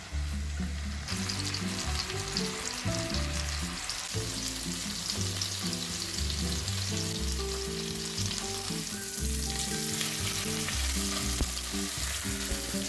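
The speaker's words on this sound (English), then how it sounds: "Sear the roll on all sides until golden brown." A pork tenderloin roll searing in a hot pan gives a continuous bright sizzle, heard steadily beneath prominent background music throughout.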